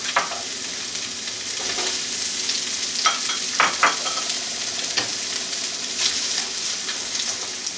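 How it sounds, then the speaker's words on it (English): Carrots and onions saute in sesame oil in a skillet with a steady loud sizzle, punctuated by a few clicks and scrapes of stirring. "We're just going to saute them until they're soft."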